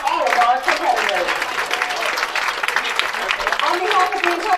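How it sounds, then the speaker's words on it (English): A crowd applauding at a professional women's bowling tournament, steady dense clapping and cheering that stays loud throughout, with the crowd noise thick and continuous. "How about one more big round of applause for all of our competitors?"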